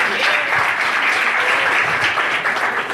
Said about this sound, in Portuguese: se aplaude a Deus pela vida do homem do Senhor